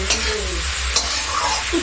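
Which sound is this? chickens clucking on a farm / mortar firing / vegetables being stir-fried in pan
vegetables being stir-fried in pan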